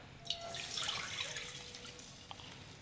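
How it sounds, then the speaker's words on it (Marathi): Water pours in a steady, close stream into a bowl of rice flour for modak dough, for a couple of seconds, with a faint trickle and a few small drips afterward. "आपण दीड वाटी पाणी घालणार आहे याच्यात"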